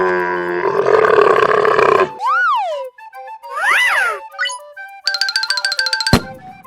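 A camel vocalizes in a deep, gurgling groan and roar lasting about two seconds, followed by a string of cartoonish boings, whistles and rhythmic synthetic tones, loud and close.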